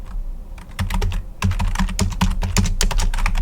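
Computer keyboard typed at close range while entering terminal commands, a fast irregular run of crisp key clicks with brief pauses between bursts.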